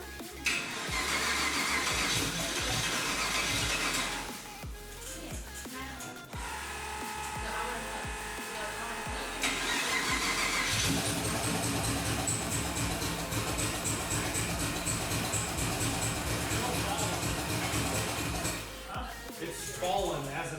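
A 1950s Dodge truck with a junkyard 4.8L engine and a large 88mm turbo cranks, then settles into a steady, loud rumbling idle, with people talking over it.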